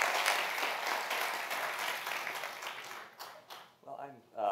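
Audience applause at a conference fireside chat welcoming two speakers, a full, steady round of clapping that thins and fades toward the end.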